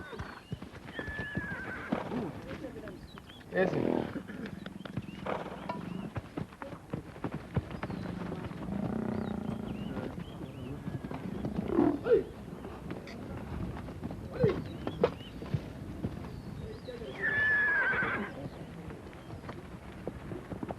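Several loud whinnies from army horses in training ring out at intervals, with hooves clopping on the ground between them.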